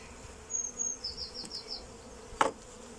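Honey bees buzz around an open hive brood box during a transfer from a nuc, faint high whines drifting past in short bursts over quiet outdoor air, with a brief tap near the end.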